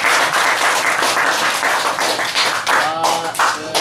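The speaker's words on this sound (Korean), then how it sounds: "우리 연주해 주신 손이나 원장님께 큰 박수 부탁드립니다." An audience gives sustained, loud applause to a performer at a small music gathering, steady dense clapping throughout with a few voices faintly mixed in.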